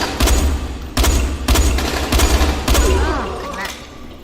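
Rapid gunfire in the zombie game Dying Light, loud repeated bursts of shots in close succession with low booming thumps, some game dialogue faintly mixed underneath.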